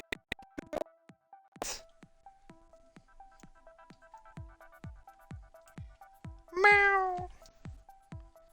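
A pet cat meows repeatedly in a quiet kitchen, short soft calls spaced across the clip, ending with one louder, drawn-out meow near the end.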